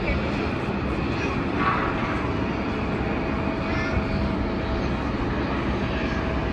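Airplane engine noise at an airport, a steady broadband roar held evenly throughout, with faint voices under it.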